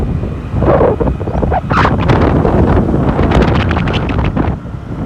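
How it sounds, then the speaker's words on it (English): Strong coastal wind buffets the microphone in a steady, loud roar on a drive along the Vung Tau shore in Vietnam, with brief gusting swells over about five seconds. "The wind is quite big."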